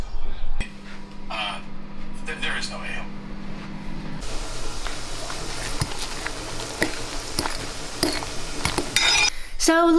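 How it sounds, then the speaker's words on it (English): Kitchen clatter of pots, pans and cutlery while scrambled egg on toast is cooked, with clinks, scrapes and a brief hissing spray, heard close by and fairly busy, with a voice talking over part of it. "S is in the kitchen making scrambled egg on toast."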